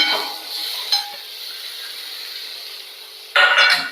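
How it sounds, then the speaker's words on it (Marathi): Wet cashews fry in hot oil in a pan. A low sizzle runs throughout, broken by a brief scrape of stirring early on and a louder clattering stir near the end. "आता मी हे काजू टाकणार आहे ह्याच्यात फ्राय होण्यासाठी"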